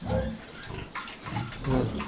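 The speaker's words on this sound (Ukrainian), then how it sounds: "які славні свинки ці" Several piglets grunt and snuffle close by in quick, uneven bursts against a noisy barn background, with a faint voice now and then.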